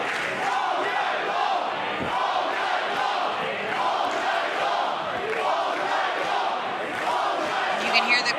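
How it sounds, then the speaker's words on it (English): Fans at a Wrestling Revolver show chant together throughout, a steady, loud roar of many voices filling the arena with rhythmic swells and no break. "You can hear the crowd chanting all night long"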